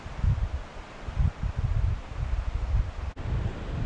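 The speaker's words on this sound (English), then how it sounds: "listening to the wind in the trees and the river down below me" Wind gusts and rustles through trees over a steady rushing wash of water, with low buffeting rumbles against the microphone.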